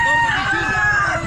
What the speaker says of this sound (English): Roosters everywhere.